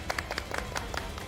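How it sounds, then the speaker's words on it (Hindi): A few hands clap in quick, scattered bursts on a studio television show, faint and brief, with several sharp individual claps standing out. "तालियां तालियां"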